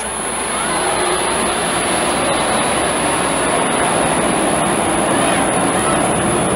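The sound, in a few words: jet aircraft flying over from LaGuardia airport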